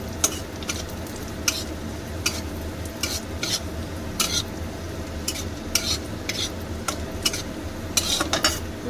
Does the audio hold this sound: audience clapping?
no